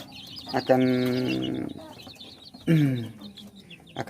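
Hens and young chicks in a poultry pen call out, with a drawn-out hen squawk followed by a shorter one, soft cheeping in between.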